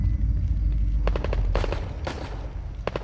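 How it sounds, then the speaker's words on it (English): Distant gunfire in the horror video game The Evil Within 2, a few quick bursts of sharp shots over a low rumbling ambient drone. "Hopefully those are friendly gunshots"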